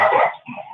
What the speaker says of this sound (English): control that dog, Champion Hart.